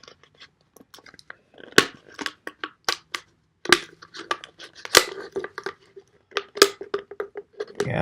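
A knife blade cuts into a standard plastic bottle, giving a run of sharp crunching, tearing and crackling bursts in irregular rhythm, close and fairly loud, with no talking.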